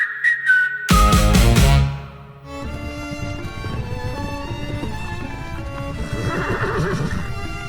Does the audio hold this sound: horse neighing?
yes